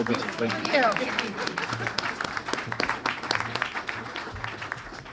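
Applause from an audience at a conference breakout session, scattered clapping at a modest level with distinct individual claps, while voices murmur underneath.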